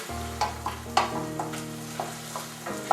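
A Mediterranean bean stew being stirred in a pan, with a soft sizzle running throughout and a series of scraping strokes at an uneven rhythm, close and fairly quiet.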